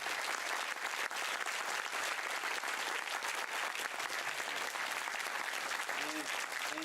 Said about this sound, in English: One final round of applause, please, for Dr. Goins